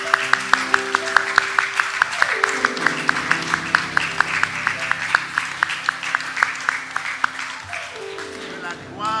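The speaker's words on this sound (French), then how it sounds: "Applaudis." A church congregation at a baptism claps together in a regular, steady beat, sharp claps repeating over music with sustained tones and singing voices.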